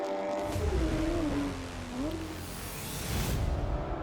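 An Audi RS3 LMS race car runs on a circuit, its engine droning steadily with a falling then rising pitch as it shifts, heard at a moderate distance.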